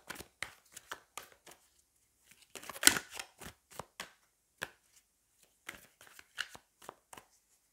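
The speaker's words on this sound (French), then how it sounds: "on va prendre une carte de chaque côté comme j'ai fait récemment dans certains tirages" Tarot cards being shuffled and drawn by hand, giving a run of soft papery riffles and flicks in short bursts with pauses, close and fairly quiet, with no talking.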